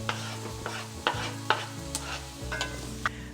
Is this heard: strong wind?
no